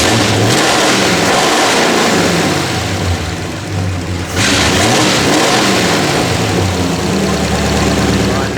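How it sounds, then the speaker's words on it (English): A 1934 Ford coupe barn find, fitted with new water pumps and exhaust, revs at full throttle; the loud engine roar rises and falls in repeated surges with a short dip midway and fills the whole stretch. "Let's jump in and give it a go, eh? Let's get full throttle."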